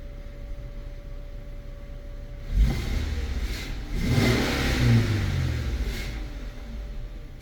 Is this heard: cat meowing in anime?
no